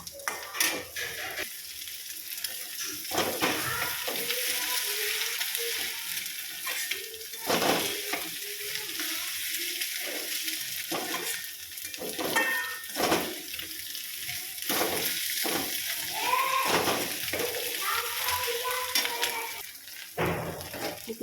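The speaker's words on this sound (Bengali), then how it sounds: "আস্তে আস্তে দেখতে পাচ্ছ ভাজা হয়ে যাচ্ছে ডিমটা" An egg fries in a pan for an egg, tomato and onion bhujia, giving a steady, soft sizzle with occasional stirring clicks and scrapes close by and no talking.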